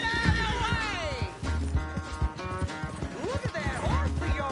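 A horse in Red Dead Redemption 2 clip-clops along and gives a couple of whinnies over a busy game soundscape, with a voice speaking over it.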